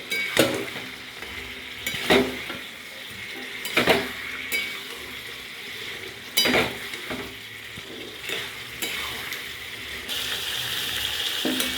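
Fish pieces going into a pan of simmering gravy with potatoes for Bengali pona macher piyaji, a steady bubbling sizzle broken by several sharp clinks of a spoon against the pan.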